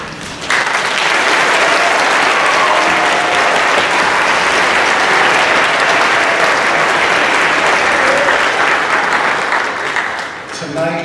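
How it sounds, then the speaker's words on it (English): An audience applauds concert performers at a concert and celebration, loud sustained clapping that swells in quickly, holds steady for about ten seconds, then tapers off near the end. "let's be sure to provide lots of loud applause for our performers"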